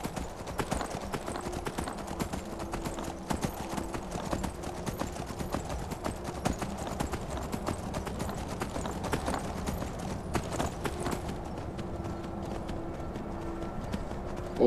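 Horse hooves clip-clop in a steady, rapid rhythm throughout in the video game Skyrim, moderately close, with a faint background hum and no talking.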